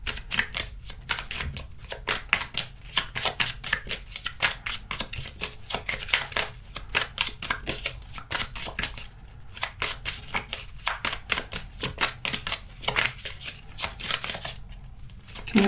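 A deck of tarot-style cards is shuffled by hand, giving a long run of rapid, crisp riffling flicks close to the listener, with only brief pauses between bursts.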